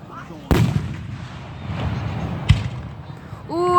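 A single deep firework boom for the 4th of July lands close and loud, then a fainter thud follows while crowd noise rumbles underneath. Near the end, a voice is heard.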